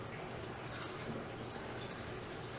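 Homemade disinfectant liquid poured slowly through a funnel, a steady, even watery trickle and splash that stays constant and close throughout.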